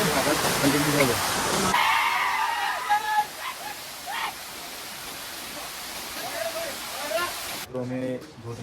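A waterfall near Pavagadh, Gujarat, gives off a steady, broad rushing roar close by, and people talk over it at the start and again at the end.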